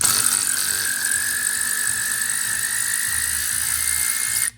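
Ratchet wrench turning out AC compressor bolts on a Dodge Neon SRT4, a fast continuous run of close metallic clicks that stops abruptly at the end.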